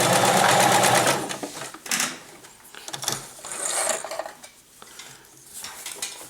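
A sewing machine stitching a hoodie, a rapid mechanical whirring burst that runs strongly at first, then slows into shorter intermittent stitching runs and handling clatter, close and fairly quiet with no talk.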